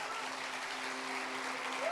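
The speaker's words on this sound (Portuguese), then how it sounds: "Você pode aplaudir a Jesus?" A church congregation at a Wednesday evening service applauds, an even, continuous wash of clapping held at moderate distance with a faint steady hum underneath, swelling slightly at the end.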